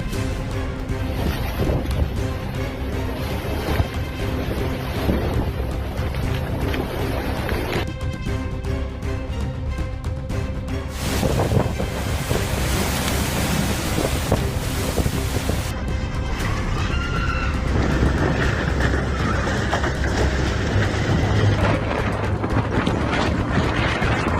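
Powerful thunderstorm with heavy rain, a dense, steady roar of rainfall and wind rumbling throughout, with broadband surges and shifts in texture across the stretch.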